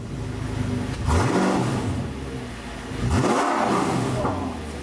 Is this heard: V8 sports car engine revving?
yes